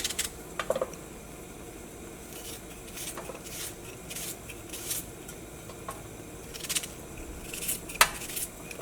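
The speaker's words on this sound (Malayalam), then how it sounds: "നമുക്കിതൊക്കെ ഒന്ന് കട്ട് ചെയ്യാം ഫസ്റ്റ്" A knife chops green chillies and vegetables for a masala, giving faint, scattered taps and light clinks against a quiet kitchen background, with no talking.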